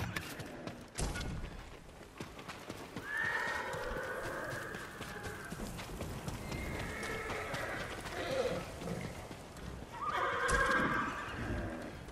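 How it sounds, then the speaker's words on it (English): Spooked horses in the samurai game Ghost of Tsushima whinny and neigh again and again after bloodshed, loud cries over stamping hooves and a low rumbling background, with a short sharp hit at the start. "Poor horses really spooked, seeing all the bloodshed."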